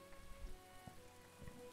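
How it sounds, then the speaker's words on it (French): Gentle rain patters steadily on surfaces in the video game Farthest Frontier, a soft, continuous wash of drops with a few slightly louder taps, heard alone without voices. "La pluie fait des claquettes, c'est beau ça."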